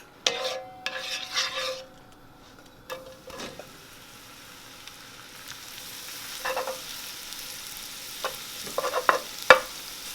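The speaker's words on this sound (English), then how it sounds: "We're just going to saute this until it starts getting brown and crispy." Soy curls sautéing in olive oil in a pan, with a quiet low sizzle broken by a few scattered bursts of spatula stirring and one sharp metallic clink near the end.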